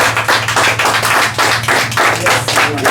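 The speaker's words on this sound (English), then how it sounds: "Yeah, a round of applause." A small group gathered at a new home in TrenchTown, Kingston, claps in a close, loud burst with an irregular rhythm of hand claps over a low background hum.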